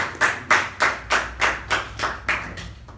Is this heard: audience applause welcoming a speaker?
yes